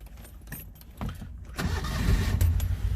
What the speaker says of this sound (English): So we're going to turn the key on, which is over here.